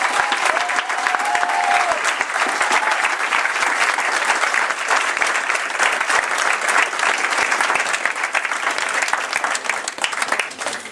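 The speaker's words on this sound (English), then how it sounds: "could we have a round of applause for both teams?" A crowd gives sustained applause for both teams at a Year 11 boys' national football final presentation, a loud, even wash of clapping that starts just as a voice finishes speaking.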